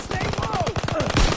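Rapid bursts of gunfire from a Call of Duty WW2 multiplayer hardpoint match, a dense run of loud automatic shots with a heavier thump near the end, mixed with game sound effects.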